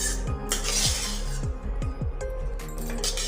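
Vegetables are lightly fried and stirred in a pan, with a metal spoon clinking and scraping against the pan in a quick, irregular rhythm over a steady low sizzle.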